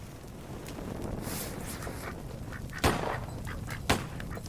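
Ducks shot in the video game Little Inferno: a faint wind-like background with two sharp, loud bursts near the end, each followed by brief squawking.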